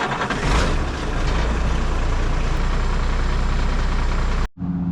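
Diesel engine of a dump truck with a hydraulic pump setup runs at a steady idle, a loud, continuous low rumble close by that cuts off abruptly near the end.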